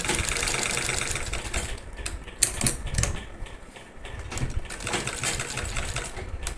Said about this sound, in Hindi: इस तरह से सिलाई लगा लेंगे